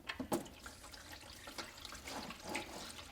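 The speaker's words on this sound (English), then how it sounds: "Stuff comes out like a waterfall." Dark engine oil pours from a Subaru's drain into a catch pan, a faint continuous splashing trickle with a few sharper drips near the start, heard close and without talk.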